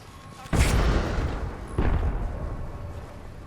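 Two heavy booms from frag grenades in a firefight in Apex Legends, the first loud and close, the second a second later, each trailing off in a rumbling tail.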